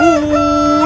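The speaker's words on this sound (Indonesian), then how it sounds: "Ini ada ayam berkokok." A toy rooster hidden inside a plastic surprise egg crows once, a loud, close, steady electronic cock-a-doodle-doo lasting under a second.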